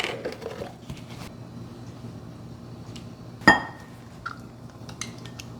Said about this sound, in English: the first thing to go into our mixing bowl is our Greek yogurt